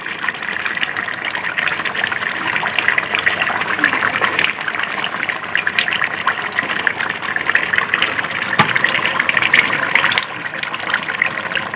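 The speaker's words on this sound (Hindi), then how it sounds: "पहले तो मैं यही पानी शामिल करूँगी सारा, जो ये हमारा पाए का जो बच गया है गलाने के बाद" Leftover water from boiling beef trotters poured into a cooking pot for broth, a steady continuous gushing splash running the whole time with no pauses.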